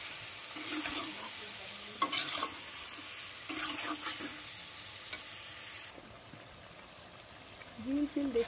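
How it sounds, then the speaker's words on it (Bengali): Chicken deep-frying in a kadai on high flame, a steady bubbling sizzle with a few spoon scrapes and stirs, moderately quiet and close, with faint voices in places. "চিকেনটা প্রায় 7 থেকে 8 মিনিট ভালো করে ডিপ ফ্রাই করে নিতে হবে।"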